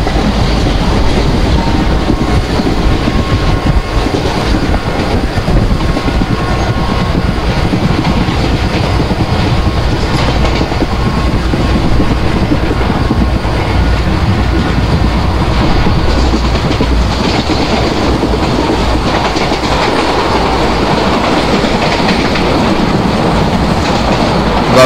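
An Indian Railways WDM2 diesel locomotive hauls an ICF passenger train at speed in the MSTS Open Rails simulator, a loud unbroken rumble and roar with rhythmic wheel clatter over the rails throughout.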